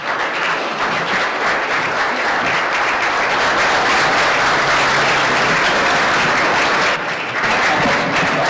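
Audience applause fills a luncheon hall honouring Colombia's vice president, loud, dense and sustained throughout, with a brief dip near the end.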